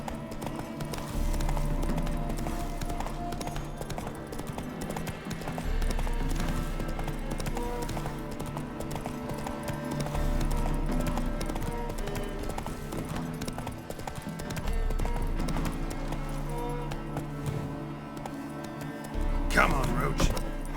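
Roach, a horse in The Witcher 3 video game, gallops with steady rhythmic hoofbeats under game music and brief speech, loud and continuous throughout.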